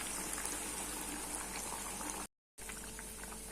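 Mint masala vada, a pudina lentil fritter, fries in oil over a medium flame. A dense, continuous bubbling hiss is heard up close, broken by one brief dropout to silence before it resumes.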